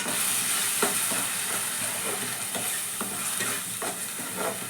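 Blended onion and tomato paste fries in oil-coated masala for a rajma curry, sizzling steadily as a spoon scrapes and stirs the pan in repeated strokes, close up and with no talk.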